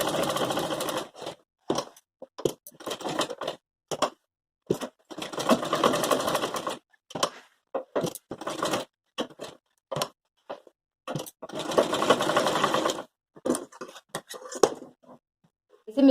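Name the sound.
sewing machine stitching Patiala salwar fabric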